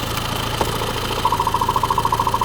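A 2018 Renault Master L3H2 van's diesel engine idles close by with a steady low hum. A regular knocking pulse joins in and repeats evenly through the second half.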